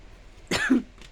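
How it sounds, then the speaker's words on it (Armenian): A single sharp cough, close and fairly loud, bursts out once with a brief rough throaty tail and then fades into quiet. "Չգիտեմ ինչի, հազում եմ անդադ։"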